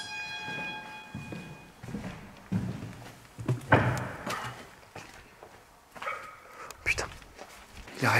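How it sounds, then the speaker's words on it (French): A dog barks a few times at a distance inside a building during a paranormal investigation, short muffled barks amid footsteps, handling noise and quiet talk. "Il a réaboyé le chien."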